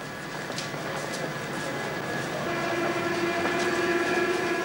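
A Paris metro train runs with a continuous rumbling roar, rail clatter and a rising steady whine, heard close and loud in an archive recording from 1982.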